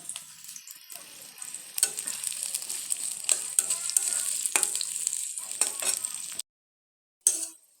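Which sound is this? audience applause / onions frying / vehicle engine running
onions frying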